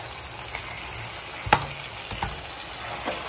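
Goat tripe (boti) with tomatoes and green chilies cooking in a pot, a faint steady sizzle and simmer with a few soft clinks and stirring knocks, no talking.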